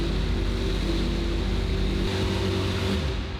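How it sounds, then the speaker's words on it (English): A steady, loud engine running on methanol drones continuously close by, with a low rumble that shifts slightly partway through. "So you saw I just fired up the engine there"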